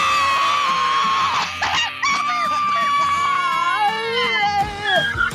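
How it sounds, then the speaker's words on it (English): Several people scream together in a loud, sustained group yell lasting about five seconds, with wavering high-pitched voices overlapping throughout as a sign-off at a Milwaukee tied house trivia gathering. "Look, can we sign off with screaming?"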